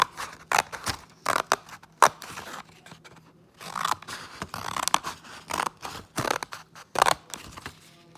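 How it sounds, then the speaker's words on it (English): Scissors cut through folded paper for a woven placemat, with a series of close, crisp snipping and crunching strokes in irregular bursts separated by brief pauses. "we're going to take our scissors and we're going to cut from the folded edge to the edge of that line"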